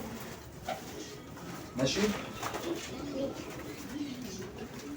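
Pigeons coo softly at a breeder's loft, the low rolling calls recurring near the microphone beneath steady background noise while someone speaks.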